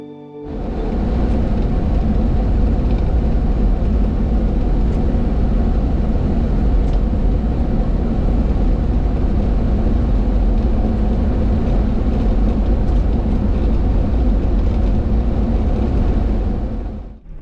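A Suzuki vehicle drives along rural Montana hill roads between old homesteads, its engine a steady, close, continuous drone with road rumble that holds level from start to finish, no talking.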